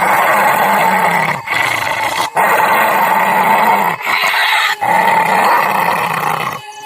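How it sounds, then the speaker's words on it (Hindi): Deep, loud dog-like growls and snarls come from bushes in a horror tale, rumbling in long continuous bursts with short breaks between them, no speech. "तभी झाड़ियों में से किसी के गुर्राने की आवाज आने लगती है।"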